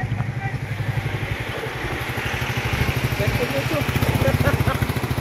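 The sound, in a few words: Royal Enfield Bullet motorcycle riding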